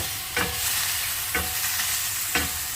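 Garlic and onion fry in a pan for Ilocano pakbet, a steady, close sizzle broken by three brief stirring scrapes at even intervals, with no voices.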